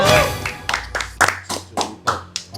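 Hands clap in a steady rhythm, about nine sharp claps spaced roughly a quarter second apart, close and fairly loud, with a voice talking briefly at the start during a casual Indonesian chat among stunt riders.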